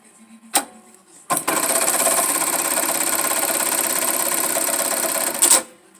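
A THOR electronic tacker stitches a vertical tack into webbing, a steady, loud mechanical rattle running about four seconds, framed by sharp clunks as it starts and stops.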